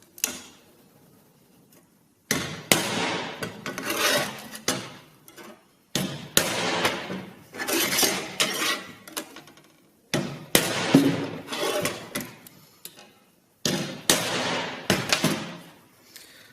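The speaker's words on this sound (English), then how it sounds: "I need to dot punch around the centre of them" Four bursts of rapid sharp metallic taps, each a quick series of hammer strikes on a dot punch into metal, separated by short pauses, in a Land Rover workshop.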